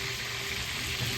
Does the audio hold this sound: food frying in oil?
yes